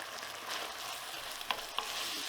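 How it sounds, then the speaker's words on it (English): Peppers, chilies and spring onion fry in a pan with a soft, steady sizzle, faint and close, broken by two small clicks or pops. "So I imagine just fry those off for a little bit longer."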